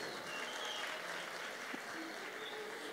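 Audience applause for a contestant at a Campus Party event, a faint, even spread of clapping heard from afar that continues steadily without talk.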